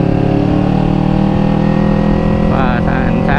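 A 250cc motorcycle engine drones steadily and loudly while being ridden, with a constant hum. A faint wavering tone rises near the end.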